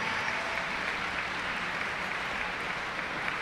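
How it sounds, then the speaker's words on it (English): Continuous crowd applause at an Army of Stars banquet for Isabel, a singer performing on an injured ankle. The clapping is a dense, steady wash from many hands, even in level throughout, with no voices over it. "So let's give another round of applause."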